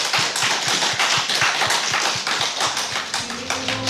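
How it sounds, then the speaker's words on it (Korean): A church congregation gives loud, dense applause in praise, a continuous wash of many hands clapping close by, over a soft, regular low thump from the sanctuary. "하나님께 영광의 박수 한번 올려드리겠습니다."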